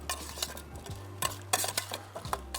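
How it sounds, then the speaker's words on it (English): A spoon stirs rhubarb, sugar and lemon juice in a pan, giving soft wet scraping with a few brief clinks of utensil on metal, close and quiet, with no talking. "Then that can just get a little stir"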